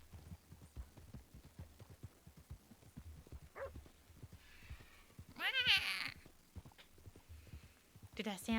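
A person imitates a vulture's call with short raspy vocal squawks, mixed in with scattered clicks and soft background noise.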